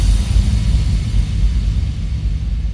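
A deep synth sub-bass effect, a heavy low rumbling tone pulsing continuously for a few seconds, loud and alone.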